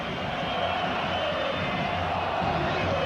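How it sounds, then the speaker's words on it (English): Football crowd at a 1998 World Cup match between the Netherlands and Argentina, a dense, steady roar of many voices chanting "boring" together, continuous and loud throughout. "the chants of the crowd, listen, boring"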